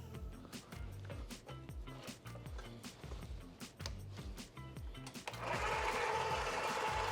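An electric meat grinder fitted with a finer plate grinds beef with onion for Persian koobideh kabob, a steady mechanical motor drone with rhythmic low thumping that grows louder and harsher near the end.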